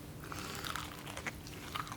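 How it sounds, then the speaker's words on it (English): A bite into a crunchy fried chicken sandwich, giving a close, loud crackling crunch with several sharp crisp bursts over about two seconds. "Listen to this crunch."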